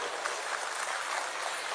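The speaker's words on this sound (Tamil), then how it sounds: "உங்களின் பலத்த கைத்தட்டலோடு" A crowd claps steadily, a dense, even wash of applause at moderate volume with no break.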